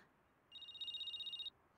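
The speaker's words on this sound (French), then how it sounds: "c'est ton téléphone qui sonne là?" A mobile phone rings faintly with a steady, pulsing electronic trill lasting about a second, alone in a quiet room.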